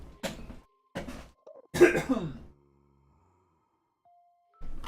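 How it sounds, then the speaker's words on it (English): A few sharp, close coughs in quick succession, followed by a couple of seconds of near silence before another brief burst of noise. "Oh, I'm about to cough."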